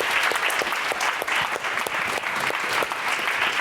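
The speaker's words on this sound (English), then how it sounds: "Please join me in giving them a great round of applause." A conference audience at an education summit gives a loud, sustained round of applause, dense even clapping filling the whole stretch with no talk.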